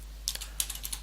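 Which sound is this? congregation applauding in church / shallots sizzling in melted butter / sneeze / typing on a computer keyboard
typing on a computer keyboard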